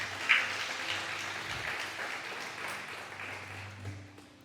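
A church congregation applauding during a Sunday service, moderate steady clapping from the pews that holds at an even level and slowly tapers, with a low hum underneath.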